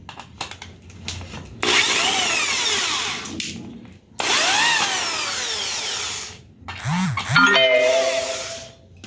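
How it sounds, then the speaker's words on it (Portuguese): Cordless power drill driving screws into the wood of a small wooden rocking horse, in two long whirring bursts with a pause between, a short third burst afterwards, and faint talk in the background. "Vou parafusar aqui."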